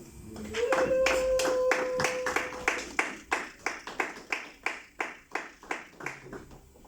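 A church congregation claims for the Lord with a burst of clapping that settles into a steady rhythmic beat, a held voice or tone rising briefly at the start and the claps loud and close.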